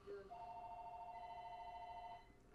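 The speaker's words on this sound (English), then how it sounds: "Phone's ringing, who cares?" A telephone rings with a steady electronic trill for about two seconds, fairly clear and close, heard during a WWE Raw wrestling broadcast commentary.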